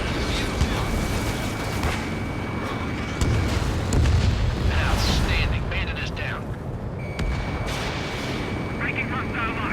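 Missile explosions in the combat flight game Ace Combat 7, heavy booming blasts over a constant roar of jet engine and effects, with several bursts around the middle and near the end.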